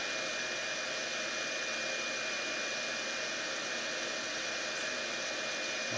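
Baku BK-601D hot air rework station blowing at full setting, a steady broadband rushing hiss like a hair dryer, constant and close throughout with no talk.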